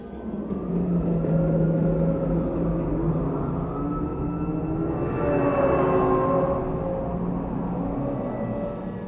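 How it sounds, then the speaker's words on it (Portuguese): Distant ambient city noise from the Need for Speed Most Wanted game menu, a steady low rumble of far-off cars with a swelling whoosh in the middle, like passing traffic or a helicopter, with no talk. "se você ficasse um pouquinho no menu você conseguia escutar até o barulho de longe, tipo de carros, de polícia,"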